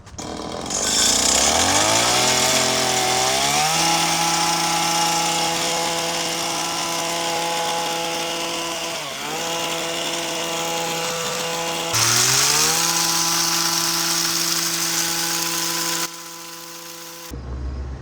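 Stihl FS90 or FS85 trimmer with a hedge attachment cutting a cedar hedge, a loud, close, steady engine whine that revs up, holds, dips briefly around midway and revs again before cutting off.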